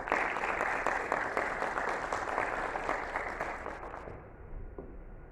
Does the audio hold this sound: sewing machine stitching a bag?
no